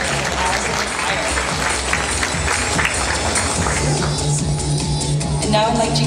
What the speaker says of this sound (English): give a round of applause to all the Lolitas